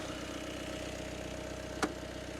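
A 2015 Mitsubishi Outlander 2.3 diesel engine idles with an even, rhythmic chugging, steady throughout, with a brief sharp click near the end; no talking.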